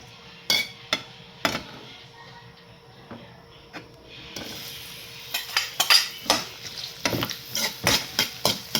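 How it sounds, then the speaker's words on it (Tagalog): Garlic and onion sauté in cooking oil in a pan, giving a soft sizzle under repeated metal clinks and scraping stirs that grow busier partway through. "So, ayan, magigisa na tayo. Nilagyan ko na siya ng mantika."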